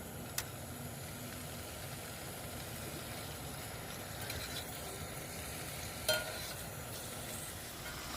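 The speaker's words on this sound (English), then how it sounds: "We'll fry this ham up real quick." Precooked ham heating in a pan, a soft, steady sizzle with faint low hum underneath. A couple of sharp clicks break in from utensils or the pan.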